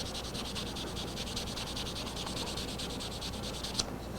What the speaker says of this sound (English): scrub that thing clean.